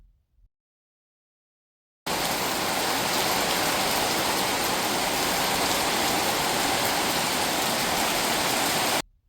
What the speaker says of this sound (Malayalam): വലിയ കോരിച്ചെരിയുന്ന മഴയായിരുന്നു.